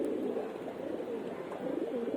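Breeder pigeon in a sky pigeon loft cooing softly and repeatedly, low murmuring calls close by over faint background noise.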